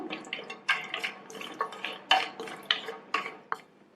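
A spoon scrapes and clinks against a pan as 15 to 20 cashews are stirred in warm ghee, irregular sharp taps and scrapes in quick bursts, close and clear, no talking.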